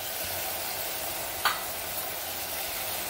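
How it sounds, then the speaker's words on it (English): Tomatoes go into a sizzling mixed-vegetable curry and get stirred, giving a steady broad frying hiss with one brief clink of a spoon against the pan midway. "Now I'm adding the tomatoes in it"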